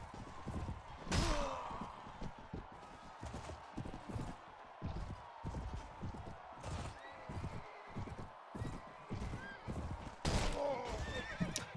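Horses whinny and neigh amid clattering hooves in a Mount & Blade Warband battle, with a few sharp neighs standing out over a busy, steady din of combat and movement.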